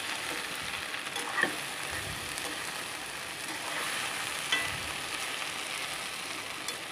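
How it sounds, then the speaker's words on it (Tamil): Okra frying in a pan, stirred gently: a steady, moderately quiet sizzle runs throughout, with a few soft scraping stirs standing out now and then, no voices. "பாருங்கள், நான் ரொம்ப கிண்டி விடலை, லைட்டாக தான் கிண்டி விடுறேன்."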